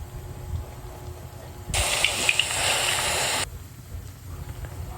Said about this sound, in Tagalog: Tapos magpiprito na tayo guys. Ayan, kailangan medyo maraming mantika.